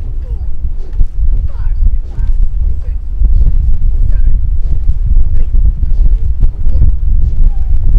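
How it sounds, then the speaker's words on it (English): A 10 to 20 mph headwind blows over a rowing course during a varsity eight race, buffeting the microphone as a steady low rumble with irregular gusty thumps throughout. "We've had a 10 to 15, sometimes 20 mile per hour headwind all morning here"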